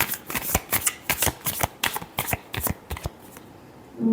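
A deck of tarot cards being shuffled up close, a quick run of crisp riffling flutters and slaps that continues for about three seconds and then stops, leaving brief quiet.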